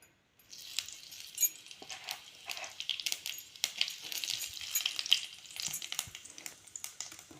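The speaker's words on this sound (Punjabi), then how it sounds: "ਕੜਾਈ ਵਿੱਚ ਤੇਲ ਪਾ ਲਿਆ ਸੀਗਾ ਤੇ ਤੇਲ ਬਿਲਕੁਲ ਕਲਕ ਚੁੱਕਿਆ ਹੈਗਾ ਹੁਣ ਇਹਦੇ ਵਿੱਚ ਥੋੜਾ ਜੀਰਾ ਪਾਵਾਂਗੇ" Cumin seeds hitting very hot oil in a kadai for a baingan bharta, a sudden bright crackling sizzle that keeps popping and spitting in quick irregular bursts, close and fairly quiet, with no voices.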